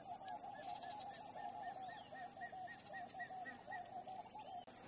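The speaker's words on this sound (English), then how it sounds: "We also had good views of a calling juvenile dark chanting goshawk." A juvenile dark chanting goshawk calls in The Gambia, giving a series of short, evenly spaced piping notes at moderate distance over a constant high insect whine and faint background chirps.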